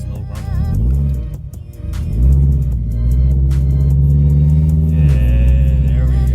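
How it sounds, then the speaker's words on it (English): A turbocharged 500hp 1986 car engine idles with a deep, throaty rumble, briefly revving up and settling into a steady low drone close by. "But it gives it this low rumble."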